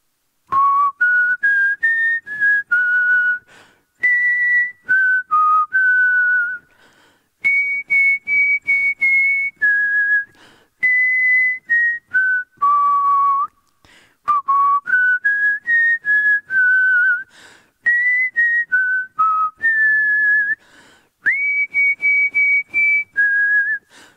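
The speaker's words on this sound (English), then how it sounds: "Let's whistle it first." A lone person whistles the melody of a song, clear and close, in sustained phrases separated by short breath pauses, with no talk over it.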